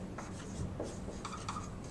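A pen or pencil writes a metric conversion problem by hand, soft scratching strokes and short scribbles on paper coming in quiet bursts, close up with no talking.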